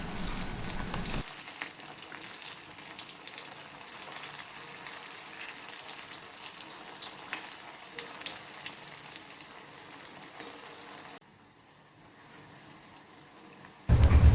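Food that has just been flipped fries in a pan, giving a steady, dense sizzle close by for about ten seconds. The sizzle then drops to a softer hiss, and a sharp noise comes at the very end.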